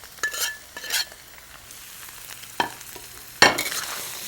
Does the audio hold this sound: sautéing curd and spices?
yes